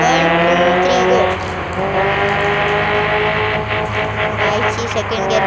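A car speeds up on a highway, its engine note loud and close, rising and holding steady with a faint squeal at times, while people talk over it.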